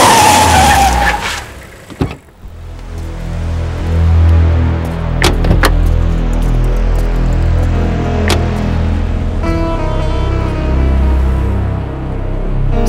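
A car chase in a Tamil movie scene: loud, sustained engine roar with a tire skid at the start and several sharp knocks and bangs scattered through, heard up close with no talking.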